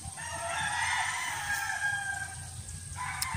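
A neighbour's pet rooster crows once nearby, a loud drawn-out call with a short rasping tail, heard over a low background hum.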